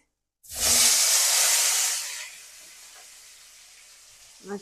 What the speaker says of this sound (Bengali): এই যে আলুটা ভাজতেছি